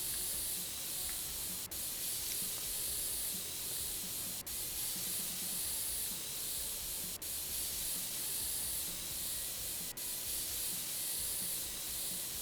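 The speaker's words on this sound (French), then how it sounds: "j'installe, comme ils disent, une bombe à air comprimé et je la souffle" Compressed air can spraying in PC Building Simulator, a steady broadband hiss running continuously at moderate level with faint regular clicks every few seconds.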